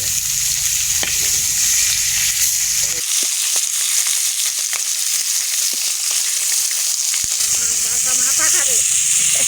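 Fish fry in oil in a pan, giving a loud, continuous close-up hiss scattered with crackles and pops.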